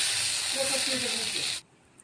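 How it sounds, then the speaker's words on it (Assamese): Gourd leaf stalks frying with potatoes in a pan, a steady loud sizzle and hiss with faint bubbling crackle that cuts off abruptly near the end. "লাওৰ পাত ঠাৰি আলুৰ লগত এনেকৈ ভাজি আছোঁ"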